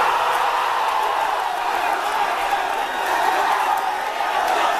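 A crowd reacting with loud, sustained cheering and a dense wash of voices, steady and unbroken throughout, with no single voice standing out.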